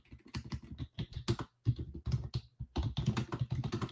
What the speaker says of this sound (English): I just got to type in this group.